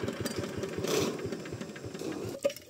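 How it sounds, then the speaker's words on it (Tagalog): A diesel engine driving a water pump at a farm well runs steadily nearby, with a fast, even chugging throb that continues without a break for the whole stretch. "Tapos, paanda rin na yung diesel na makina nila."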